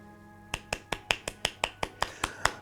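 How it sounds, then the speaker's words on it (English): About ten crisp finger snaps in quick even rhythm, close and sharp against a quiet background, no speech. "He claps quickly with fingers in hand."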